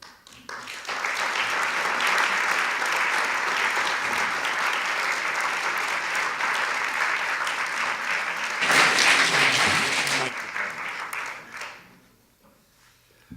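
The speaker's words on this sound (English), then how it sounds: "give him some courage with a warm applause" A symposium audience at a university gives a warm welcoming applause for a speaker, sustained even clapping that swells briefly near the end before fading out.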